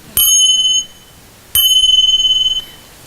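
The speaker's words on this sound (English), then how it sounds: "And again, they're finger cymbals." Finger cymbals strike twice, each hit bright and piercing. The first ring is damped short, and the second rings out with a shimmering waver before it stops.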